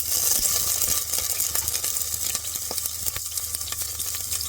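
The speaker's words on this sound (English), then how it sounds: "I'm going to put the Sichuan pepper because that's the flavor that I want for this oil." Sichuan pepper and Raja Mircha chilies fry in hot oil, a steady close sizzle with crackling pops scattered throughout and no voices.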